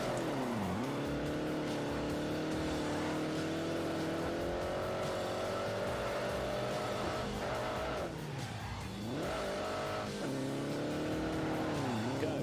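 Car drifting in The Grand Tour racing game, a loud sustained engine roar with sweeping pitch dips and rises as it slides, tire squeal mixed in, continuous and close.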